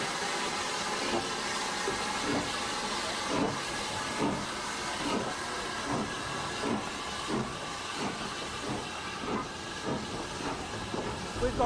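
Southern steam locomotive 506, hauling four carriages, pulls away from a station with a continuous loud steam hiss broken by regular, evenly spaced chuffs as it gathers speed.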